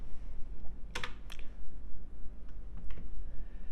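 Computer keyboard typing commands into the text adventure game Cyborg: sparse, light keystroke clicks in small irregular bursts with a couple of sharper taps, quiet and close over a faint steady hum.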